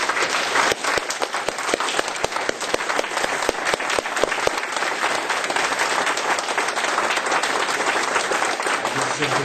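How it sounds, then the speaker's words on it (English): Applause from the audience at a county commission meeting, a sustained round of many hands clapping close and loud with sharp individual claps poking through, fading only slightly near the end. "we all owe you a round of applause"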